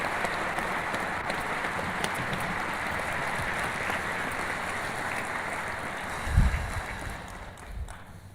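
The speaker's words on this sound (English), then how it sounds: "Let's have a big round of applause for Brother Larry." Steady crowd applause from a large lodge meeting audience, a broad even roar of clapping held for the whole stretch, with a couple of low thumps near the end.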